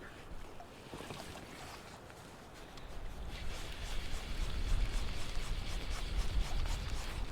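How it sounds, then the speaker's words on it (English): A small fishing boat motor hums on a lake amid wind and lapping water, growing louder and rougher partway through as the boat moves along. "Let me turn off my motor."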